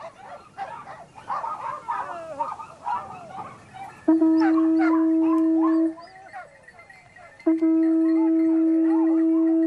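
A pack of hunting dogs at a Spanish big-game montería yelps and howls together in the distance, then two long, steady conch-shell blasts sound over them.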